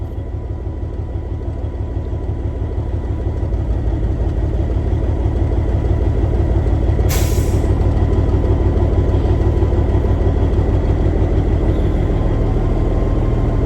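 A Caterpillar 3406B diesel engine running rough before a fuel filter change, a loud steady low rumbling idle with an uneven pulsing throb that swells slightly, plus one brief sharp hiss partway through.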